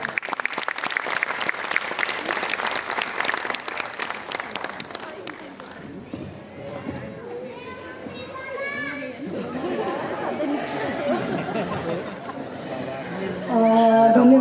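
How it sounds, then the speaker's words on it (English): Audience at a preschool graduation ceremony applauds a special guest, the clapping loud and mixed with children's voices and chatter, giving way midway to a murmuring crowd and a brief swell of noise at the end. "Let's welcome her with a huge round of applause"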